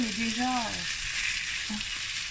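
Chicken with black mushrooms and bamboo shoots frying in a pan, a steady close sizzle with a brief stirring scrape near the start, no talking.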